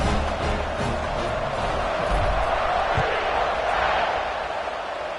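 Dense football stadium crowd roars steadily at a tied game before a third-quarter kickoff, a continuous loud wash of cheering with scattered thuds and shouts, no single voice standing out.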